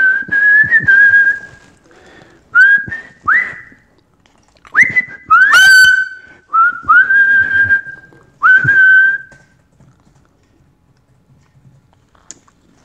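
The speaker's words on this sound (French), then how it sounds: "Les gens, ils entendaient juste le sifflement." The whistled melody opening a song rings out clear and loud, a series of sustained, sliding phrases with short gaps and faint clicks, then fading into near silence.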